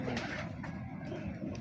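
A hefty pigeon gives a faint, low cooing murmur in the background, quiet and steady, under a soft ambient hum.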